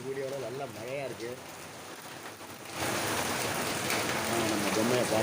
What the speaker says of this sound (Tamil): மழை நல்லா பேஞ்சிக்கிட்டு இருக்கு.